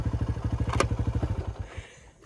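A motorcycle engine idles with a steady, loud pulsing thump close by, a brief clatter in the middle, then the sound tapers off toward the end.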